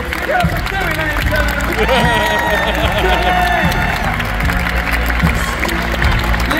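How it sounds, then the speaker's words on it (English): Steady applause and cheering from a live magic-show audience, dense and continuous with crowd babble and music-like tones layered underneath. "Keep the applause going for the one."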